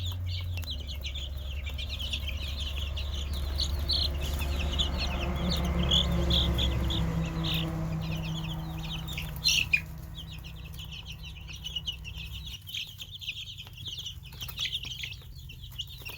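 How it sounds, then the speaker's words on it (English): Naked neck (Turken) baby chicks cheep in a steady run of high, overlapping peeps over a low background hum, fairly close and with no talking. "these are all naked necks, which is why they have no feathers on their necks"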